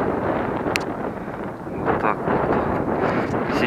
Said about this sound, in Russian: слышим звук с ветром, на улице ветер